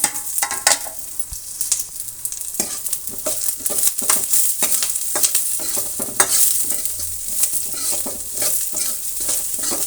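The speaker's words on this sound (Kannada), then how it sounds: "ಕರಿಬೇವಿನ ಸೊಪ್ಪು ಒಂದಿಷ್ಟು ಮತ್ತು ಒಂದು ದೊಡ್ಡದಾದಂತಹ ಈರುಳ್ಳಿ ಮತ್ತು ಒಂದು ಸ್ಪೂನ್ ಜೀರಿಗೆ ಒಂದು ಹತ್ತು ಮೆಣಸು ಇಷ್ಟನ್ನು ನಾವು ಫ್ರೈ ಮಾಡ್ಕೊಳ್ಳೋಣ" Curry leaves, a large onion, cumin and pepper fry in oil with a steady loud sizzle, while a spoon stirs and scrapes the pan in quick repeated strokes throughout.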